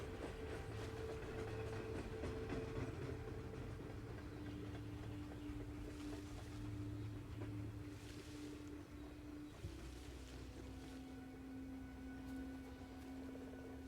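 A train rumbles along in Partisans 1941, a WWII strategy video game, with steady low engine drone and sustained tonal hums shifting in pitch, moderately loud and continuous with no speech.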